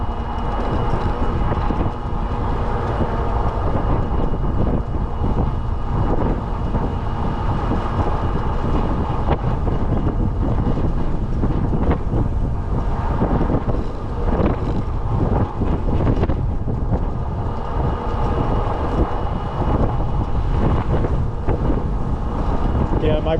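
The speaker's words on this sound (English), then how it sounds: "the wind is really strong. I hope it doesn't interfere with the sound on the camera" Strong wind batters the camera microphone in a continuous, loud, rushing roar with heavy low buffeting that barely lets up.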